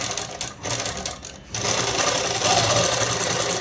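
A sewing machine stitching threaded seams on a French cut dress, a steady close whirring hum that briefly dips and then runs on loud and continuous.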